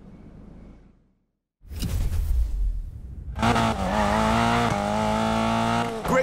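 Car drifting in Need for Speed Payback, with a loud, sustained engine roar and tire squeal building after a brief silence and continuing steadily to the end.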